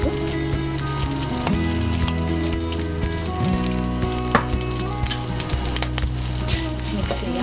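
Japanese fried rice with spring onion being stir-fried in a pan, a steady loud sizzle running throughout with scraping and stirring clatter from the utensil against the pan.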